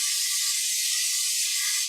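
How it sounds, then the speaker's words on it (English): A steady, bright aerosol hiss of vegetable oil cooking spray on a pan lasting about two seconds, close and even, cutting off abruptly at the end. "I'm going to go ahead and spray my pan."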